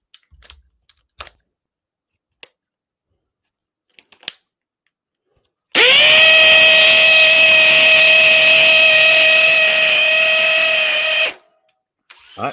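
A DeWalt cordless power tool with a stacked lithium battery runs at full speed for about six seconds, giving a loud, steady, high motor whine. A few faint clicks come before it and after it.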